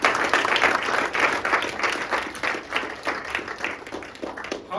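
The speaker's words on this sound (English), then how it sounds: "give a huge round of applause to celebrate the mothers" An audience claps in applause for mothers at a Mother's Day spoken-word event, a dense run of hand claps rising and falling in waves, fairly close and without talk over it.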